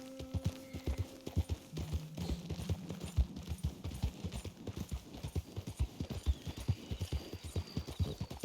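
Close, loud clip-clop of horse hooves beats in a quick, steady rhythm, with a short whinny near the start and faint background noise.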